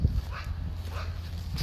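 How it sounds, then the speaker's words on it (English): Several dogs bark from a distance in hot Texas weather, a few short faint yips and barks spread across a quiet outdoor background with low rumble. "Whoever that is, it's got a lot of dogs."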